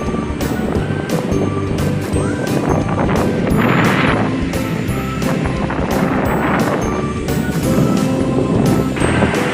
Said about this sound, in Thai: ช่วงนี้มาช่วงขึ้นลมแรงนะครับ